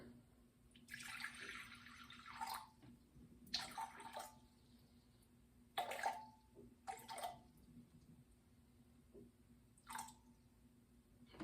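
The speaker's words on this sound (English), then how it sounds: "I'm going to go ahead and add my 250 grams of warm water" Warm water poured from a container into a bowl on a kitchen scale in several short splashing bursts, separated by quiet pauses, close and fairly soft.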